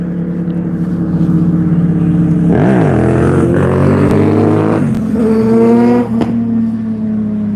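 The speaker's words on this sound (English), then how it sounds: "just gone past on his motorbike doing a wheelie" A loud motorbike engine drones nearby, then revs up sharply with rising pitch sweeps as it roars past doing a wheelie at a seaside, settling back to a steady hum.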